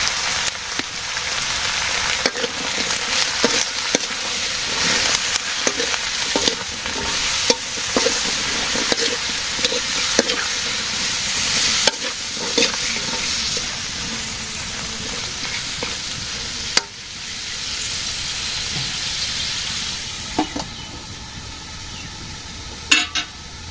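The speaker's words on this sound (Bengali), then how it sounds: "সবজি কষানো হয়েছে" Vegetables sautéing in a hot pan with salt, green chilli, turmeric and dried chilli, giving a steady close sizzle with scraping stir strokes and occasional clatters throughout.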